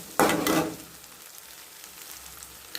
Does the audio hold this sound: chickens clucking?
no